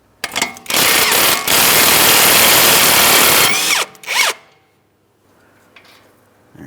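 A power tool whirs loudly and steadily as it removes the 18mm tie rod end mounting nut on a 2008-2016 Chrysler Town & Country. It runs for a few seconds, then gives two short bursts before stopping.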